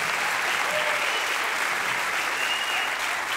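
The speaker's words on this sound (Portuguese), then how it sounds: "Uma salva de palmas, senhoras e senhores, para Diguinho Coruja!" Audience applause for a comedian at a stand-up show, a steady dense wash of clapping from a crowd, even and sustained throughout.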